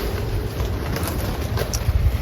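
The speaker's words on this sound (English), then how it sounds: "see how windy it is, and this is what happens." Gusty outdoor wind buffeting the microphone in a garden, a steady low rumble that swells in a few stronger gusts toward the end.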